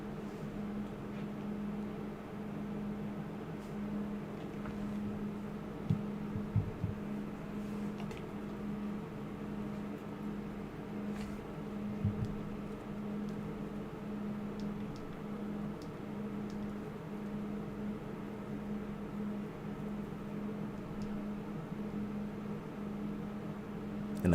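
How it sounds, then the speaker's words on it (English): Steady computer fan whirring in the background with a constant hum and hiss, continuous and unchanging, with a few faint clicks and knocks over it. "And I do apologize for that background noise. That's my computer. That thing is like a jet engine."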